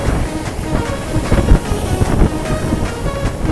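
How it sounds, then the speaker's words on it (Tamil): Sea waves breaking on the shore at Colachel, a steady broadband wash of surf with gusty wind buffeting the microphone, swelling into a louder surge midway, no voices heard. "இங்கே வந்து பார்த்தீங்கன்னா பாவில் இப்போ அலை அடிக்கும் பாருங்கள்."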